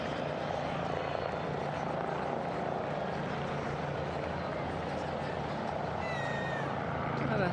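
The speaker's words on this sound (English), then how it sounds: "a chopper overhead bringing us some panoramic views" A helicopter hovers over a football stadium, its steady rotor drone continuous and moderately distant beneath crowd noise and commentary.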